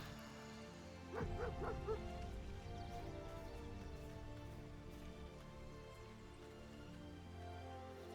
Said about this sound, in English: Oh, the puppy's here.